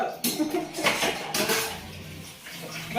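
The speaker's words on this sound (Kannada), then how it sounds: "ನಮ್ಮಪ್ಪ ಪಾತ್ರೆ ತೊಳಿತಾ ಇದ್ದಾರೆ ನೋಡಿ" Dishes, pots and vessels being washed by hand at home, with clanks and scrapes of metal utensils and running water in close, irregular bursts, and a voice faintly in the background.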